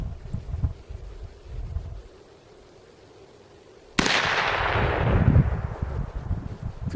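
A single sharp shot from a 22 Magnum round fired through a Heritage Rough Rider revolver outdoors, a sudden loud crack followed by a long windy rush after a quiet pause.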